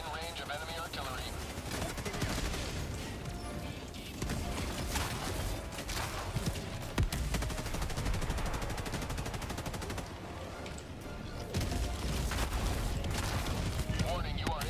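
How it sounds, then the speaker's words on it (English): Enemy artillery and gunfire in the Helldivers 2 video game: dense, continuous rattling gunfire with heavy booming blasts, loud and chaotic, with a voice talking over it. "Warning, you are in range of enemy artillery."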